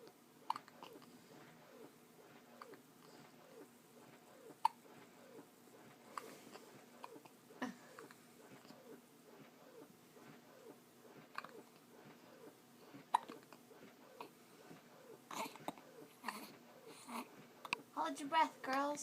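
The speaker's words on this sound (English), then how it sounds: "Do the hiccup wave." Young girls hiccup again and again in a quiet room, soft, short, irregular hiccups with faint breathing, and voices talk briefly in between.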